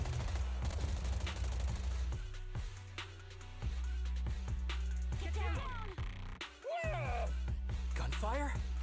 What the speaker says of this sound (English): Gunfire? This pattern. Suppressive marching fire.